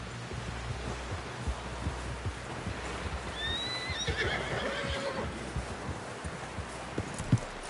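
A horse in Red Dead Redemption 2, a faint whinny partway through over a steady run of soft hoof clip-clops, set against a quiet background hum.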